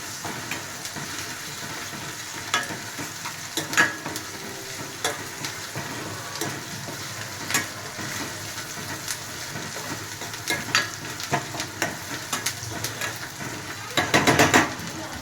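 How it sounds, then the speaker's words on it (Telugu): Ginger garlic paste frying in hot oil for mutton bone soup, a steady crackling sizzle throughout with scattered sharper pops and stirring scrapes, a louder burst near the end; no talking. "అల్లం వెల్లుల్లి పేస్ట్ కూడా ఫ్రై అవ్వాలి."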